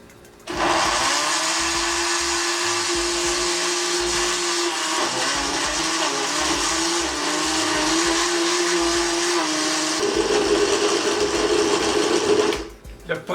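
A blender whirs steadily for gazpacho, pureeing tomatoes in a continuous loud motor drone that shifts pitch slightly midway as the contents thin out, then cuts off near the end.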